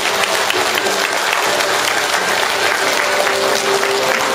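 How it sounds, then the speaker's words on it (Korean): Sustained, even applause fills a hall as an audience congratulates newly promoted members at a Won Buddhist training closing ceremony, steady and full for the whole stretch. "자, 함께 해주신 우리 승급인 모두를 위해서 이수하는 축하의 마음으로 박수 부탁드리겠습니다."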